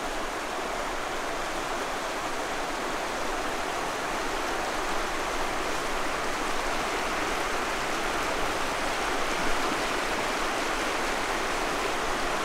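A small stream runs under a footbridge near the Blue Spring in Shannon County, Missouri, giving a steady, even rush of water that stays loud and unbroken throughout, with no voices.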